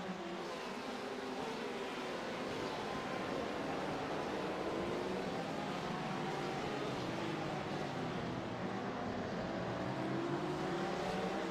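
Steady, droning race car engine note from a blue Ferrari in the iRacing sim, a continuous roar with slowly shifting pitch and no clear breaks, fairly quiet throughout.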